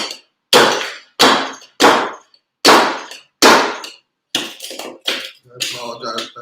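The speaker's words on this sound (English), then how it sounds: "I'm just going to throw the two sugar cubes that we get into this tin here for me to be able to muddle." Muddler pounding two sugar cubes in a metal tin, a series of loud, sharp metallic clanks in an uneven rhythm, close up, with some smaller scraping knocks near the end.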